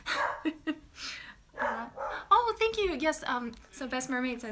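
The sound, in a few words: dog barking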